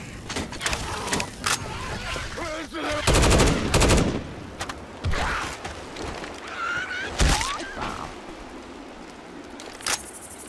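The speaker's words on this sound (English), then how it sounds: "Grabbing the assault rifle." An assault rifle fires repeatedly in Left 4 Dead 2 on the Hometown fleshbridge map: close, sharp bursts of automatic gunfire, including longer sustained volleys, mixed with game effects and other action sounds.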